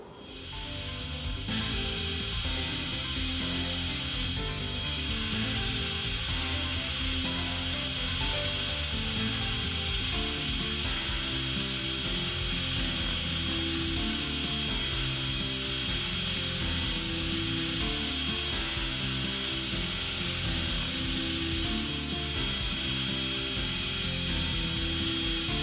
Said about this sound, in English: checking for scratch marks until the sanding is perfect